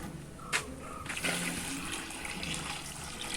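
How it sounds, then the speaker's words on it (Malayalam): Water pours and splashes steadily into a cooking pot for milky rice, a continuous rushing flow with a brief clank near the start. "ഒരു മൂന്ന് പാത്രം വെള്ളം ഒഴിച്ചു കൊടുക്കാം"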